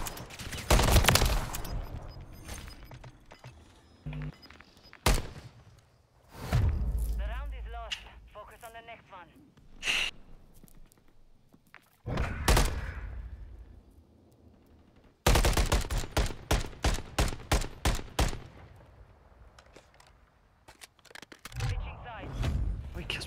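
Gunfire in a Warzone-style first-person shooter, with irregular single shots and bursts and one dense rapid automatic volley, loud and close, while players talk over it.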